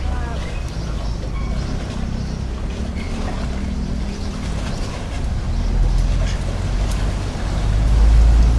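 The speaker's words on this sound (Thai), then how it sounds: "เรือ กำลังลอดใต้สะพานซอยรามามนะครับ" Low, continuous engine rumble of a passenger boat on Khlong Saen Saep with water wash, swelling louder toward the end as it passes under a bridge nearby; a voice talks over it.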